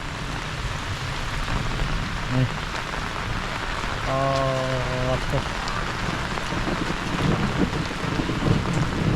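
Heavy rain pours onto surfaces around a flooding house in a dense, constant patter, with someone speaking briefly over the steady downpour.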